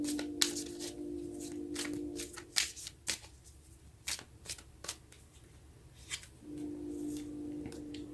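Tarot cards riffle and snap through a steady series of shuffles, close and crisp, with short pauses and a faint hum at the start and end.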